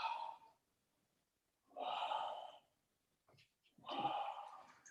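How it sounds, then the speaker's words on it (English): A group of people breathing deeply during a guided movement exercise at a keynote session, three long, slow, airy breaths spaced apart with quiet gaps between, close and soft. "keep breathing"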